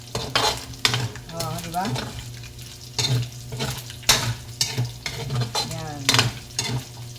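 Chicken pieces browning in hot oil for chicken caldereta, sizzling steadily while a utensil stirs and scrapes the pan in repeated strokes; someone speaks briefly over the cooking.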